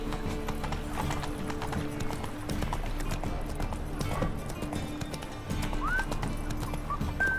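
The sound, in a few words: horse Roach galloping in video game The Witcher 3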